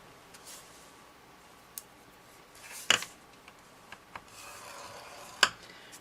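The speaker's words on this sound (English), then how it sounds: "we're going to turn it on the 12 inch side, and we're going to score it at 3 1/4 inches" A scoring tool runs along cardstock for a notecard, making quiet close scraping and rubbing strokes with a few sharper clicks and taps in a calm room.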